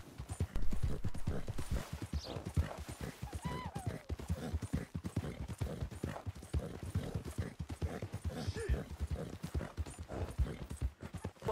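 Rapid, steady clip-clop of wild horse hooves trotting in Red Dead Redemption 2, fairly quiet, with a faint whinny partway through and no talking.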